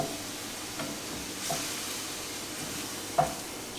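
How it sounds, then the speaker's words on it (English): A hot pan deglazed with alcohol gives a steady, close hiss and sizzle, broken by a few soft stirring scrapes and one sharper tap. "Time to deglaze."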